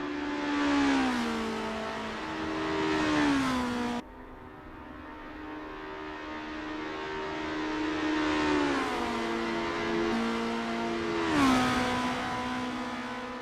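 Race cars in Assetto Corsa at Bridgehampton, engines revving loudly through the gears with rising pitch sweeps and shifts, two cars heard together, with a brief drop before climbing again.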